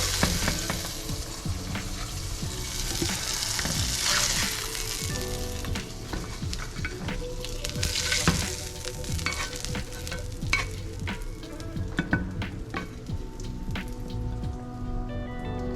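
Freshly caught fish frying in hot oil in a skillet, a steady close sizzle with crackling pops, like rain on a surface, and occasional scrapes and taps of a utensil.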